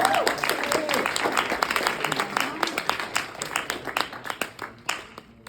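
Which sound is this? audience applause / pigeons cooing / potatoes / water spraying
audience applause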